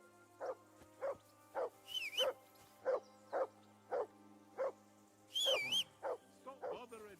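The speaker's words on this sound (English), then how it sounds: "I assume you can hear that damn dog of yours barking." A dog barks repeatedly in a Windows PC game: about a dozen evenly spaced, clear barks, with two higher whining yelps in between, against a low steady hum.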